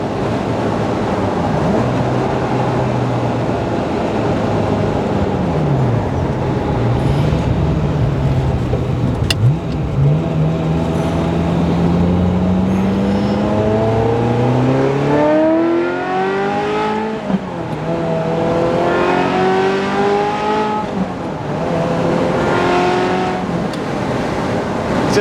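A Ferrari F355 engine revs hard through its range as the car accelerates, pitch climbing in repeated sweeps between gear changes, loud and continuous from on board with no talking.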